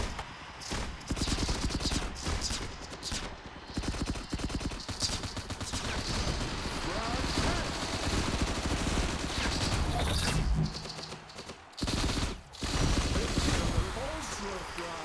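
Gunfire in the mobile shooter game FRAG Pro Shooter, with loud, dense bursts of shots running almost continuously and two brief dropouts near the end.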